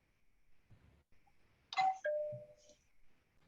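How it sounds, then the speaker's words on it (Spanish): A phone rings during a Spanish-language online law lecture, a brief two-tone chime standing out clearly above faint room noise, with no speech during the ring. "Esperen que me está sonando el teléfono"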